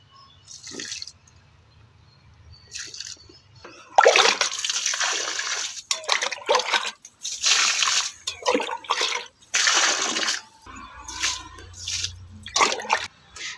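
Water mixed with homemade fertilizer is poured onto flowering plants such as roses, giving repeated close bursts of splashing and trickling, separated by short quiet gaps.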